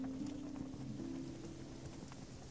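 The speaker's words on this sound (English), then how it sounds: "We're going through the rain again" Soft, steady rain patters while sailing a boat in the game Spiritfarer, a faint, even hiss of falling drops with a low tonal hum beneath.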